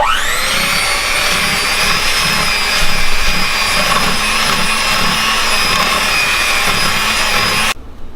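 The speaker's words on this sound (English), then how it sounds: "I've got my 3 cups of sugar and my pound of butter, and I'm going to mix this till it's light and fluffy" An electric mixer creams three cups of sugar with a pound of butter for a pound cake, a steady loud motor whine with a high tonal hum running continuously and cutting off near the end.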